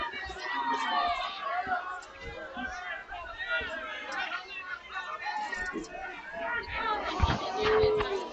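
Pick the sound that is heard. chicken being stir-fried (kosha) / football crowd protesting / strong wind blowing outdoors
football crowd protesting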